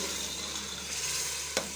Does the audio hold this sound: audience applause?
no